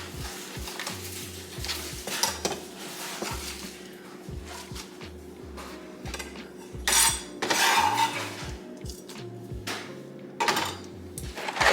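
Spinach stirred into a cooking pot, with repeated clinks and scrapes of a utensil against the pot in an uneven rhythm, close and fairly quiet, with no talk.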